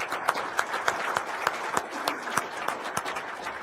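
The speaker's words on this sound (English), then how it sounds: "A round of applause for our great panel." A conference audience claps for a tech policy panel. Sharp, evenly spaced claps cut through a thin, steady patter of clapping.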